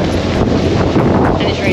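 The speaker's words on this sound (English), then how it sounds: "Look how windy it is." Strong wind buffets the microphone in a steady, roaring rush with no pauses.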